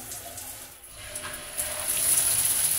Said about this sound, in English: Good flowing shower there.